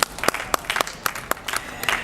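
An audience at a Recharge Pakistan event on the Indus gives a round of applause for WWF, USAID and a project team, fairly quiet clapping punctuated by sharp individual claps from nearby hands.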